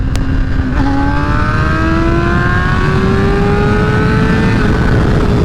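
A 2008 Honda CBR600RR sport bike fitted with a Vortex quick-acceleration chain and sprocket kit accelerates hard in third gear, its loud engine note climbing steadily in pitch under heavy wind rush, heard close from the rider's position.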